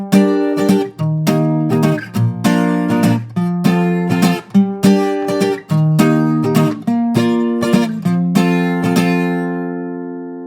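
Guitar strums the chord progression of a song in a steady repeating pattern of bright, ringing chords, played alone and up close, ending on a sustained chord left to fade.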